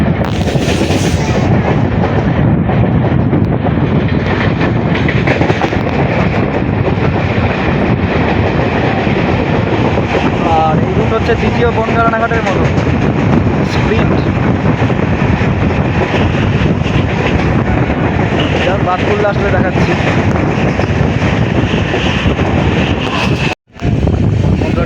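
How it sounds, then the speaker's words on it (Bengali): A passenger train runs steadily on the Ranaghat–Krishnanagar line and arrives at Jalalkhali halt, with loud continuous rumble and wind across the whole stretch and a sudden brief dropout near the end; a voice talks faintly now and then. "ট্রেন এখন আমাদের এসে পৌঁছে গেল জালালখালি হল্টে"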